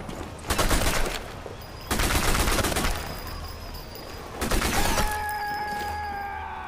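Gunfire in the Sniper Elite 4 video game, arriving in three loud bursts of rapid shots separated by short pauses, with ringing tones trailing after the last burst.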